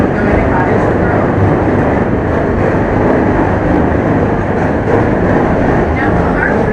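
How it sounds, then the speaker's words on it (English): A Chicago elevated L train on the green line rumbles overhead, a loud, continuous roar and rattle that stays heavy and unbroken throughout, with a voice faintly present beneath. "Now, our trains are some of the loudest trains in the world."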